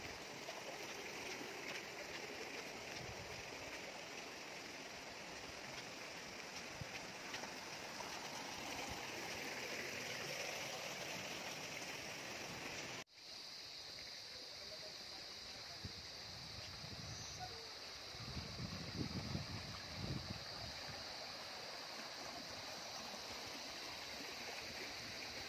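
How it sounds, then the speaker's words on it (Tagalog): Baluarte Falls in Santa Cruz, Ilocos Sur sends up a constant broadband rush of falling water, steady and fairly near throughout, with a brief dip midway and faint low rumbles later. "Pumunta ng falls."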